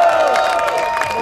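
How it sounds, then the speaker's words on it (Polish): A crowd at a breakdance battle quarterfinal cheers and claps loudly. A steady wash of clapping runs under shouts and whistles, with some high voices on top. "bo klaski dla tego pana!"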